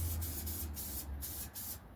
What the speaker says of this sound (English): So you're going to give it a nice spray down